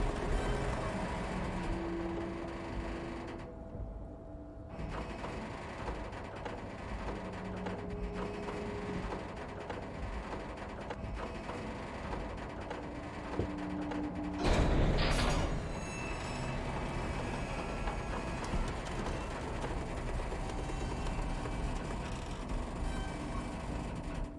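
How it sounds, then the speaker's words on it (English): An overhead crane in the video game Disco Elysium grinding as it shifts a massive metal container through the air, a sustained mechanical rumble and scraping drone with a sharper burst partway through, under steady game ambience. "With a loud grind, the crane shifts overhead, moving a massive metal container through the air."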